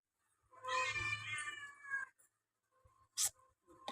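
Kittens from a cat's second litter meowing at home, one long drawn-out meow followed by a couple of shorter, sharper mews, close and clear with no talking.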